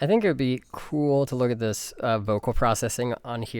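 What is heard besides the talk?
No distinct noise like a dog, phone or traffic.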